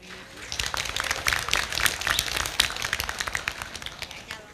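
Audience at a midwifery diploma graduation ceremony in Indonesia claps in a dense burst of crisp, close handclaps for a top graduate, sustained for a few seconds and tapering toward the end.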